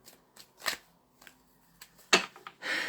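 Tarot cards being shuffled by hand in short papery bursts, a few quick riffles and slides spaced apart with quiet gaps between them, close and moderately soft.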